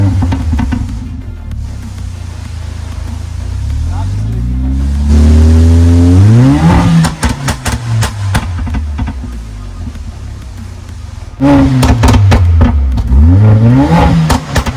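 A Mercedes-AMG with a 7-speed dual clutch transmission and stock exhaust starts up with a loud flare, settles into a deep idle, then barks through sharp, crackling revs close by, twice.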